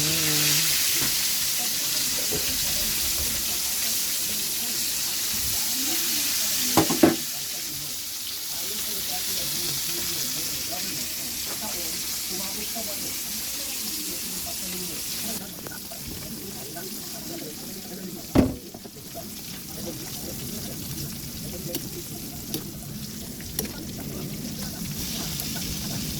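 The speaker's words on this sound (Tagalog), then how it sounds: "Ayan, naluluto ng ating tilapia." Tilapia fish frying in a pan, a steady loud sizzle lasting throughout with occasional sharp clatters of utensils and someone talking over it.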